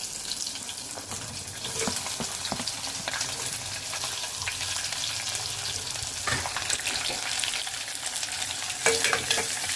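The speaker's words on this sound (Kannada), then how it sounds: "ಈರುಳ್ಳಿ ಸ್ವಲ್ಪ ಫ್ರೈ ಆಗಬೇಕು" Chopped onions fry over a low flame in a pan with a constant soft sizzle, punctuated by occasional scrapes and taps from a stirring spoon.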